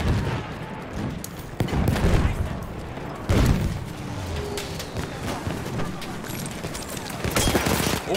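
Rapid gunfire crackles through a Battlefield 1 match on PC, with repeated bursts and volleys, some loud and close, others more distant, continuing over several seconds amid battlefield noise.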